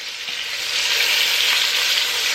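Beef short ribs sear loudly in a hot pan as they are turned onto their sides, a dense, steady sizzle that swells slightly and holds close and constant throughout, with no talking.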